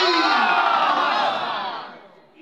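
A large crowd at an Islamic religious gathering (waz mahfil) roars back in unison after a takbir call, a loud, sustained chant that fades out after about two seconds.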